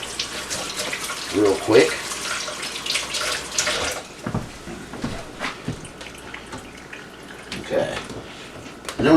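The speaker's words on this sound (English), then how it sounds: "And then I rinse my hands" Tap water runs into a kitchen sink while hands are rinsed during cooking, a steady close splashing that lasts throughout under a few spoken words.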